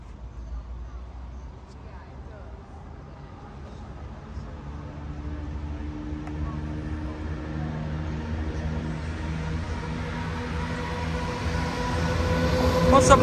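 A train's low rumble builds gradually at Sincil Bank level crossing in Lincoln, growing louder and closer over several seconds, a steady mechanical drone with faint tonal hum.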